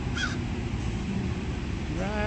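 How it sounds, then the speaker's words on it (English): A crow gives harsh caws at a flea market, one short call near the start and another near the end, heard over a steady, loud outdoor rumble of wind or distant noise. "That's the crow."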